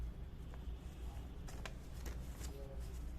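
Tarot cards shuffled and drawn for a reading, soft papery riffles and a few crisp flicks up close against a low steady background hum.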